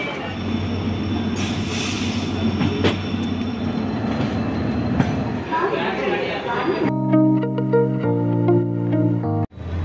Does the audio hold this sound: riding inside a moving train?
yes